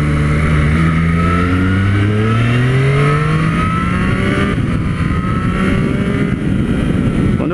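A Triumph Street Triple 765 RS motorcycle accelerates hard in road mode, its engine note rising in pitch through the revs with a loud, continuous roar close to the rider, with no talking.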